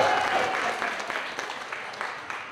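An audience at a Sunday school teachers' retreat claps for the musicians, a moderate round of applause that starts fuller and gradually thins out, with a faint voice briefly audible at the start.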